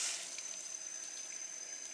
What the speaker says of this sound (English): I'm going to rinse it off again.